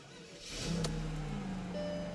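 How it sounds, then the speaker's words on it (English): A Mercedes V12's starter whirs briefly on a slightly low battery before the engine catches and settles into a low, steady idle, heard at moderate distance. "listen to the starter and how it kind of engages with the engine"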